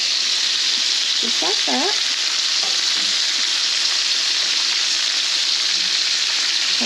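Homemade quarter-pound burgers sizzle steadily in a hot pan as they are flipped and nudged apart, a loud continuous frying hiss with a few brief spatula scrapes, and a voice speaks briefly over it.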